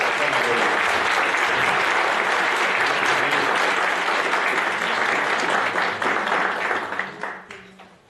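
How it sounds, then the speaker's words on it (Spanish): An audience at a criminology and criminal law conference gives someone speaker warm, sustained applause, dense and steady before tapering off to scattered claps at the end. "Recibamos un fuerte aplauso a la maestra"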